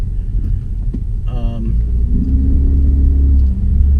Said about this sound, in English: There you can hear the rumble.